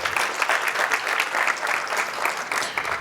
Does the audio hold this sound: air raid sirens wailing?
no